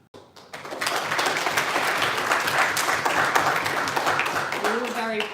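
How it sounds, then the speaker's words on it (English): An audience at a university sports union presidential hustings claps politely, a dense burst of applause that starts abruptly and holds steady for several seconds before fading as a voice begins. "We're all very polite clapping between questions"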